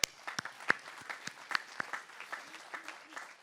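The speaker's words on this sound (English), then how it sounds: "So give yourself, once again, a huge round of applause for this achievement." Sparse, fading applause rises from the audience at a college commencement ceremony, scattered individual claps sounding fairly faint and distant for a few seconds.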